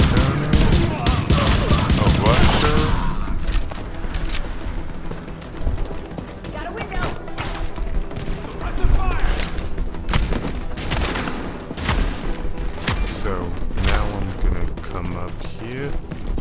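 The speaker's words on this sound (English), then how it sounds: "Shotgun." Heavy shotgun blasts and other gunfire in The Division, a loud busy firefight with repeated sharp shots, impacts and game chatter layered over one another throughout.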